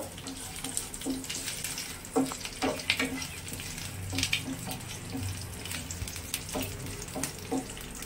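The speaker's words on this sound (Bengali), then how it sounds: "এবারে কারি পাতাটা দিয়ে দিচ্ছি, কাঁচা লঙ্কা দিয়ে দিলাম" Curry leaves and green chillies spluttering in hot oil for dhokla, an irregular sizzle with sharp crackles and stirring clatter, fairly close and moderately loud, with no talking.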